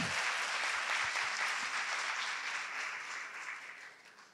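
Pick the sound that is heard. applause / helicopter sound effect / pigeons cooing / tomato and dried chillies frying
applause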